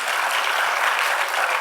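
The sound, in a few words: audience applause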